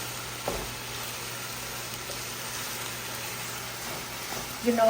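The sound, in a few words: stirring and sizzling red chicken curry with curry paste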